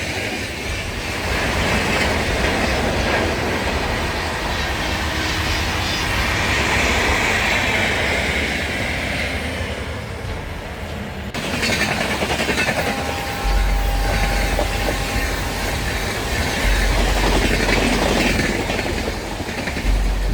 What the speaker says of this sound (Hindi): रेलवे लाइन से गुजरती ट्रेनों का दृश्य मनमोहित करने वाला था